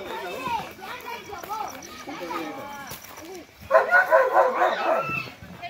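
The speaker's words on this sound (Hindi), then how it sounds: "एक से दो भौंकने की आवाज है, मतलब एक से ज्यादा कुत्ते हैं इधर" Several dogs bark in a jungle area near Junagadh, the yips and barks rising into a louder cluster partway through, mixed with people talking nearby.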